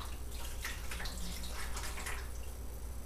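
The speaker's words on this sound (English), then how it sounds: "Pour that gently into the bottom of the bottling bucket." Sugar water pours and splashes gently into the bottom of a beer bottling bucket for a few seconds, with soft trickling and drips at low volume.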